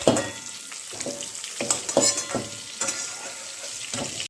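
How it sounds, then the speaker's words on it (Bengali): Eggs frying and being stirred in a pan, salted and turned until browned, a steady close sizzle broken by repeated scraping stirs roughly every half second to second, with no talking. "হালকা নেড়ে চেড়ে লাল লাল করে ডিমগুলোকে ভেজে নেবো"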